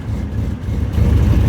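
A 1977 Ford Cobra II, refitted from a 3-inch single exhaust to dual 2-inch pipes with a splitter, idles in a brief, close, deep exhaust rumble that swells slightly toward the end.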